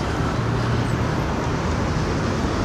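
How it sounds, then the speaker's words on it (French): Continuous roadway traffic in Marcory, Abidjan, a dense steady roar of cars and buses with low engine rumble, loud and unbroken throughout with no pauses. "Et vous voyez la circulation abidjanaise."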